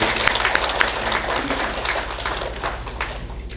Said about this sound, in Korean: 우리 같이 한번 박수로 맞아주시면 감사하겠습니다.